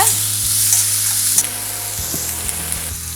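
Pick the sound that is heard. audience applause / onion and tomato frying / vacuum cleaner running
onion and tomato frying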